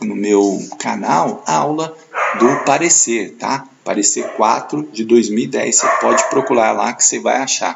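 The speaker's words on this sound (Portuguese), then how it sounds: "é o cachorro do vizinho latindo aqui" A neighbour's dog barks now and then in the background, faint and mostly buried beneath continuous close-up speech.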